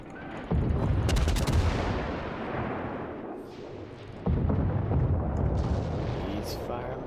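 Heavy naval gunfire from a British Leander cruiser battle in World of Warships: two loud salvos of booming shots, each followed by a rumbling decay, with sharp crackles in between.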